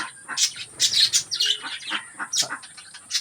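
Pet birds chirp and tweet in quick, bright bursts while eating tulsi leaves, close by and fairly loud, with short pauses between calls.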